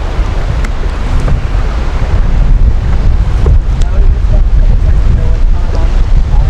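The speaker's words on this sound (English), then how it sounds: "we got all this crosswind and whitecaps coming at us" Strong crosswind and whitecap waves on open water buffet a canoe, with heavy wind rumble on the microphone and continuous loud sloshing and splashing close by.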